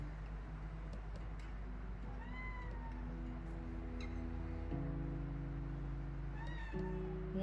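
A cat meows several times in a row, drawn-out rising and falling cries at moderate distance over a steady low background hum.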